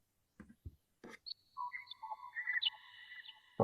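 Bird calls in a random field-style audio recording: a few soft knocks give way to thin, overlapping whistled tones and chirps that rise and layer, fairly faint, ending in a sharper burst.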